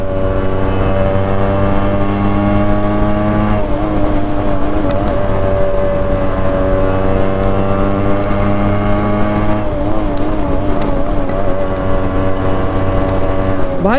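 A Yamaha RX135 motorcycle engine runs steadily and loud, its tone rising as the throttle is pulled, dipping, then climbing again near the end.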